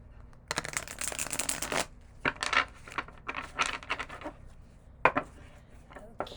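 Tarot cards riffled and shuffled by hand in several quick bursts, a long rustling run at the start followed by shorter crisp flurries and soft taps, close and clear with no talking.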